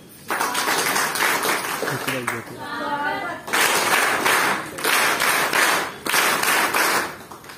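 Applause bursts out at a taluka-level convention and awareness gathering in Sindkhed Raja, Buldhana district, loud crowd clapping in several waves broken by a brief stretch of a voice.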